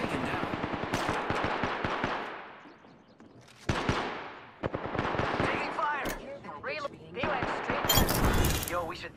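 Apex Legends gunfire rattles in bursts of rapid automatic shots, some close and sharp, others duller, separated by short pauses, with a voice speaking briefly between volleys.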